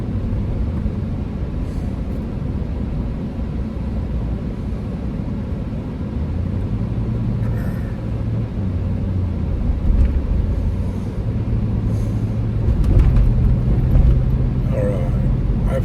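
A car riding in the blind spot alongside a moving vehicle: steady low road rumble and engine drone throughout, swelling slightly toward the end, with no talk.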